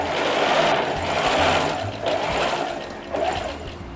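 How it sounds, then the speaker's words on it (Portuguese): A sewing machine runs a long gathering seam at stitch length 4 with no backstitching. Its steady, close whirring continues without a break, with only slight shifts in pace. "Nessa minha máquina daqui, eu vou regular o tamanho do ponto para ficar no 4. Não vou fazer reverso nem no começo nem no fim da costura."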